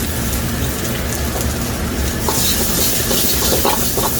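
Chopped onion sizzling in a pan for a Bhutanese goat stomach curry, a steady dense frying hiss with light stirring scrapes throughout, brightening toward the end, no talk.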